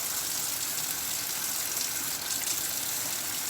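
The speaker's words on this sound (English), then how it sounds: "Just add a little water." Water running steadily into a container of whipped exfoliating soap, a constant close gushing flow like a tap, even in level throughout with no talking.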